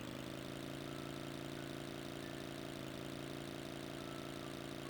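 A vehicle engine hums steadily in Tomb Raider III, a constant drone with a faint rise in pitch, quiet and alone with no talk.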